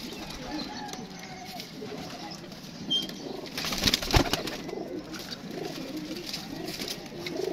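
Pigeons coo softly in a loft, low murmuring calls with a brief flutter of wings and a louder burst of activity midway.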